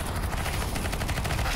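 Rapid bursts of gunfire from a first-person shooter game fill the whole stretch at steady loudness, with no speech in it.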